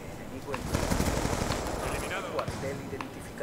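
Rapid bursts of light machine gun fire from Call of Duty Black Ops 2 on the Nuketown 2025 map crackle in quick rattling volleys amid game noise, with a voice talking over them.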